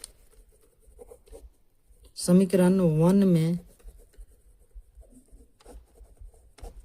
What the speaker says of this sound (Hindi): तो लिखेंगे D का मान